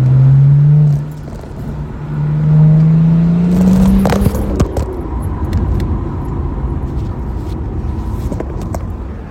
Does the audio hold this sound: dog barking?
no